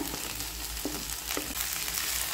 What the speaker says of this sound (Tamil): கடாயில் கீ வந்து ஹீட் ஆனதும் கட் பண்ணி வச்சுக்கூடிய வெண்டைக்காயை இதில் சேர்த்துக்கிடுங்க.